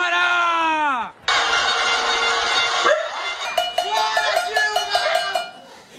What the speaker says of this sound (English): Her critics had organized a kind of pot-banging protest